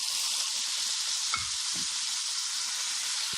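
Potatoes frying in a pan for Rajasthani chole aloo, a steady bright sizzle throughout with a few soft stirring knocks near the middle and no talk.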